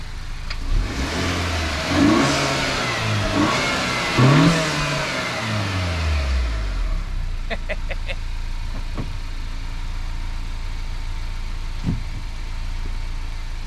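An Acura RDX A-Spec engine fitted with a new HPS air intake revs up sharply several times with a deep growl, then drops back to a steady idle with a few small blips.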